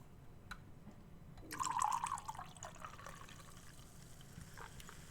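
Coke poured into a glass: a soft liquid splash and fizzy trickle swells briefly near the middle, then settles into a faint hiss over a quiet background.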